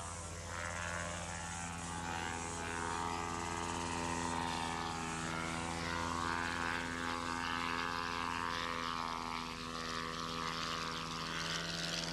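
Continuous drone of a Volmer Sportsman small propeller seaplane engine, steady and loud with a buzzing hum that barely changes throughout.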